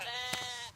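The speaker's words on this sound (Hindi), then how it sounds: "रघु की पत्नी भेड़ों को घास खिलाने के लिए ले जाती है" A single sustained sheep bleat, wavering and fairly close, from a flock being led to graze in mountain forest, heard alone without speech.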